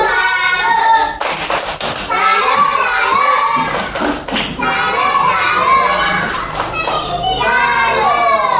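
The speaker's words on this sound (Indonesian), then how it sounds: "mari kita berikan tepuk salut untuk kelompok 1" A school class does a rhythmic salute clap for a presenting group, bursts of patterned clapping and stomping mixed with children chanting and shouting together, loud and close.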